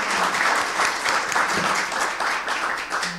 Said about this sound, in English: You can applaud here.